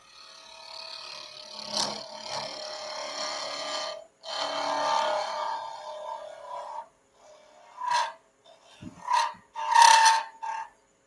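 Gritty rasping and scraping of a turning tool against a pen blank spinning on a lathe, in long continuous strokes that break into shorter bursts, close and fairly loud, as the blank becomes fully round.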